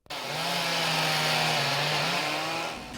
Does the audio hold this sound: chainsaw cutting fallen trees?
yes